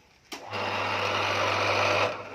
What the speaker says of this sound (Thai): เราก็เจาะลงไปก่อนนะครับ เจาะเพียวๆเลยนะ